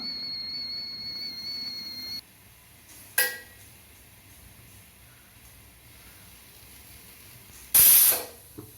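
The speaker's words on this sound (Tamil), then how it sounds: "நாலு விசில் வரணும்" A pressure cooker's steady high whistle hisses for a couple of seconds, then quiet, a short burst of steam, and later a loud sharp release of pressurized steam.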